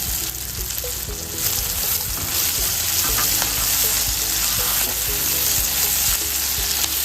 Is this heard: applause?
no